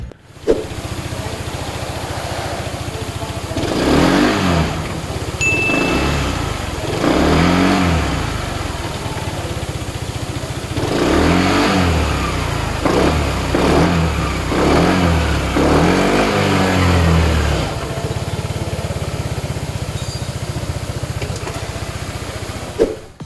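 An FKM MTX 150 Hybrid motorcycle engine with a stop-start system revs up repeatedly in surges over a steady idle, close and fairly loud, with no talk.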